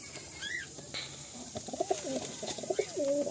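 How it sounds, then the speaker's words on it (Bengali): Giribaz and Madrasi pigeons cooing in a loft: repeated low, throaty coos close by, with a few higher bird chirps and no talking. "এখানে কিছু গিরিবাজ পায়রা আছে, আর এদিকে কিছু ম্যাড্রাস পায়রা আছে"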